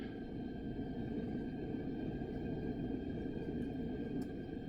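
A Middleby Marshall PS528G conveyor pizza oven's gas burner running on low fire, giving a steady, faint rumbling roar with a constant hum and no breaks, heard alone.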